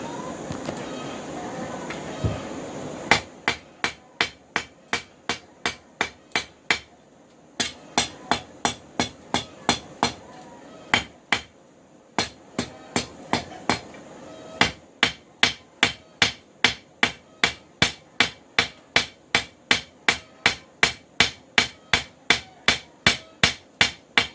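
Steady rhythmic hammer blows ring out on steel while forging a cable Damascus knife, dozens of sharp strikes in bursts with brief pauses between runs, close and clear.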